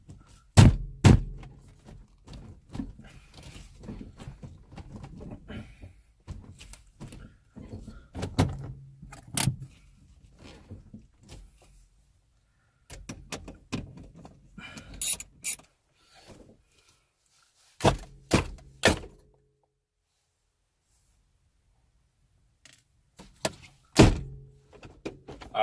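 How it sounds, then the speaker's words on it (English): Sharp knocks and thunks sound as a steering wheel on a 2005 Honda RSX is struck from below to free it, in scattered clusters with quiet gaps, close and mechanical. "just hit it from the bottom and we got it off"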